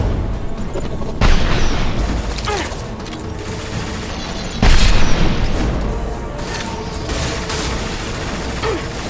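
Weapon fire and explosions in the video game Mass Effect 2: two heavy booming blasts, each followed by a dense rumbling roar of gunfire and debris. The sound is loud, close and continuous throughout.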